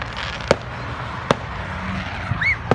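Fireworks bang in three sharp separate cracks over a steady outdoor rumble, with a short rising whistle just before the last bang.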